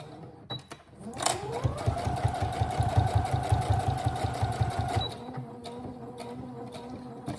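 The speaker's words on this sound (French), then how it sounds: "Et là, on va faire une couture à 1 cm du bord." A domestic sewing machine runs a straight seam 1 cm from the fabric edge while making a crossbody bag, a fast steady rattle of stitching for about four seconds, starting and stopping cleanly, close up with faint background room noise.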